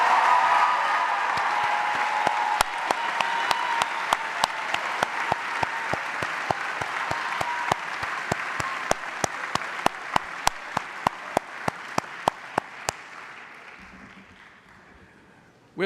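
An audience at the Wake Forest University Graduate School 2024 hooding and commencement applauds Master of Science graduates. The clapping is sustained and even, punctuated by sharp, regular clicks, and fades out near the end.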